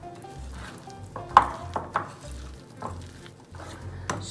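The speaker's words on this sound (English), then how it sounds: "Mix till you see one good amount of the batter coming in together basically." Eggless dalgona coffee cake batter being mixed by hand in a bowl, with soft stirring swishes, a few light utensil taps against the bowl, and low intermittent thumps, close and unaccompanied by talk.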